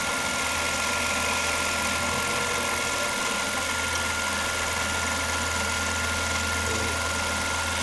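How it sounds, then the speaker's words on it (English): Mini-lathe running under powered feed on a workpiece, with the gibs and cross slide snugged tight: a steady low motor hum with broadband cutting hiss, continuous and fairly loud throughout, no talking. "I'm going to engage the powered feed here so you can see what happens"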